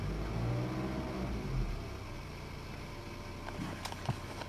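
A car engine revs as the accelerator is pressed, a low rumble that swells early and then eases back under a steady hum, heard close and moderately loud.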